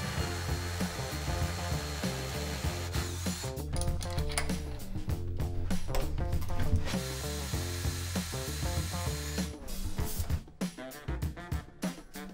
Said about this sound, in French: Il est temps de percer maintenant